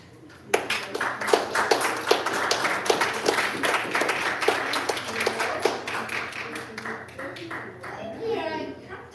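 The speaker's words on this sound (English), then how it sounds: "Friends with MJ Abell, let's give her an extra applause" An audience at a poetry reading applauds steadily for several seconds, a dense patter of hand claps that tapers off as a voice begins.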